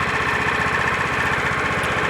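A small engine runs a portable gasifier, a steady close-up putter with a fast, even rhythm, loud and constant with no talking.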